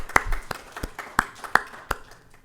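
A few people in a library event audience clap sparsely, with about eight sharp, separate claps spaced irregularly over two seconds in an otherwise quiet room.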